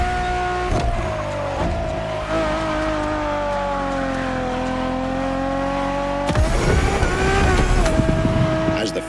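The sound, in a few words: Ferrari Enzo engine in the video game The Crew Motorfest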